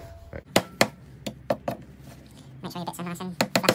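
Hammer blows striking an MDF panel and plank during a beginner's DIY session, several sharp knocks spaced irregularly, close and fairly loud, with people talking between and over the strikes.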